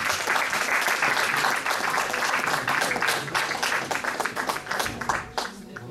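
Concert audience applauding at a Turkic folk music concert in Moscow, a steady dense wash of clapping that tapers slightly toward the end.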